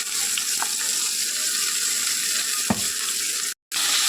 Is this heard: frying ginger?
yes